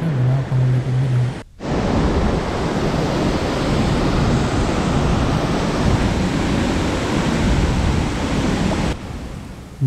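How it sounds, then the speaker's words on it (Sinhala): Dumbara falls (Duwili falls) in the Knuckles Range pours as a steady, loud, dense roar of falling water, continuous and close, with a brief dip near the start and no talking. "මේ තමයි දුම්බර ඇල්ල."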